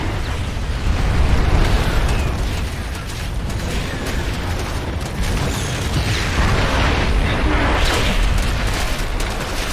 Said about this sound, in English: The gun is destroyed!